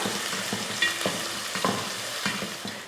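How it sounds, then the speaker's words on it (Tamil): Small onions frying in oil until golden, a steady dense sizzle with a few soft stirring scrapes, close and continuous, no voices. "எப்போவுமே நம்ம சொல்கிறதான் பொன்னிறமாக வதக்கி எடுத்துக்கலாம்"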